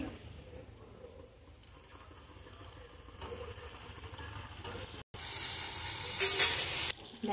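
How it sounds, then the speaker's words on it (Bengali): Ledikeni sweet dough balls frying in oil, a low steady sizzle that turns abruptly louder and brighter partway through, then crackles more intensely toward the end, with no voices. "লেচি কাটা হয়ে গেছে, এগুলো কি ভাজার জন্য তেলে দিয়ে দিচ্ছি"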